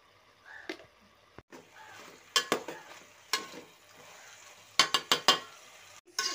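Soaked peas and ginger dropped into hot oil for vegetable biryani, a quiet sizzle broken by several sharp scraping stirs and clinks of a spoon against the pan, close and otherwise without voices.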